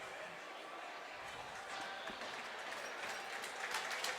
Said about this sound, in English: Gets a nice ovation from the Smithtown crowd as well.